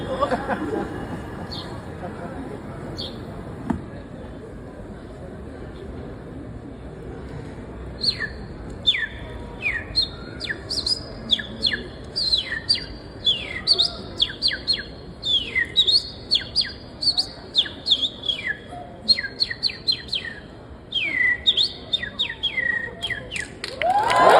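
A voice imitates sparrow chirps at a bird-imitation contest, starting sparse, then turning into rapid, busy bursts of tweets over a low crowd murmur.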